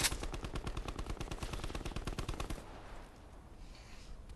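A video game machine gun fires a rapid burst of shots at a gas station, even and rhythmic for a couple of seconds and then cutting off into quiet ambience.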